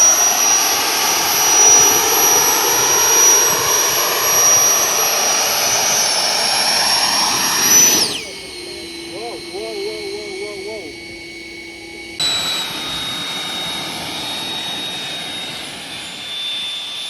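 An RC Harrier model jet turbine roars loudly with a high steady whine while running on a wet grass airfield, then drops to a lower idle before spooling back up, heard close and continuous.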